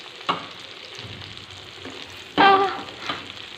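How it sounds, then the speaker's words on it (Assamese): Chopped onions fry in hot fish oil in a pan, giving a steady low sizzle with a brief louder burst of crackling midway, likely as they are stirred. "পিয়াজখিনি মই ভালদৰে এতিয়া ভাজি ল'ম"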